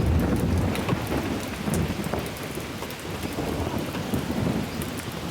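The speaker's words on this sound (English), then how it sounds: "It's raining, raining, raining, raining." Steady heavy rain with rumbling thunder pours down outdoors on an island during bad weather, a loud continuous wash with low rolling booms throughout, no voices.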